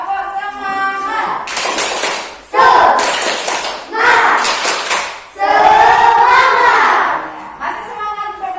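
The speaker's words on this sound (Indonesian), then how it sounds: "Oke, semangat, tepuk semangat dulu ya." Children clap the rhythmic tepuk semangat pattern in loud bursts of hand claps, their voices chanting along in between.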